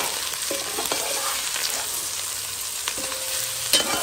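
Cabbage being stirred in a hot frying pan, with a steady close sizzle of frying and scraping stirring strokes recurring through the clip, no talk.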